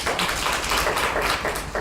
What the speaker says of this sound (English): Oh, applause already, okay